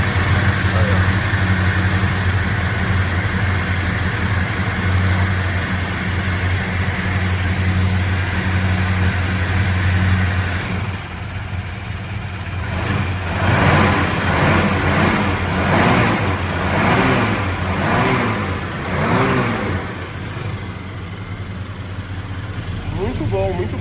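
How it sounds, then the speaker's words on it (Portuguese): A rare Simca Alvorada V8 runs at a rough, steady idle, then is blipped through several rising and falling revs close by, with people talking over it. "Você dá uma acelerada, ele vai aumentar."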